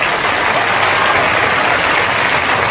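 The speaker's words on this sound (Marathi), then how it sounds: "टाळ्या वाजवून कौतुक करू." A crowd at a Maratha community meeting applauds steadily and loudly, a dense continuous wash of clapping hands filling the whole stretch with no voices rising above it.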